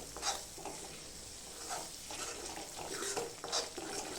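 Masala fries softly in released oil for an egg curry, a steady low sizzle with occasional stirring scrapes and light utensil taps.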